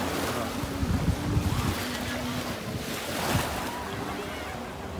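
Wind-blown water washes and laps on the Rio Negro at Ponta Negra beach in late afternoon, a constant rushing surf layered with heavy microphone wind buffeting and a faint murmur of distant voices.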